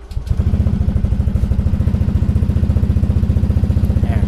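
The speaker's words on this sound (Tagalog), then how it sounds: "painit muna tayo ng motor" A Honda Beat V3 scooter's engine idles close by to warm up before an oil change, with a fast, rhythmic putter that keeps a steady, even beat throughout.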